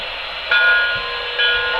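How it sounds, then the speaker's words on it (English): Warning bell of a model Pennsylvania PRR 384 standard gauge freight train locomotive, a steady ringing tone with two louder swells, heard alone with no talk. "You have the warning bell."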